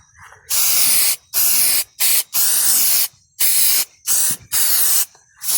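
Supernet fly trap attractant sprayed over a vegetable garden near bitter gourd plants: seven loud, close hissing bursts of a hand sprayer, each about half a second to a second long, separated by brief pauses.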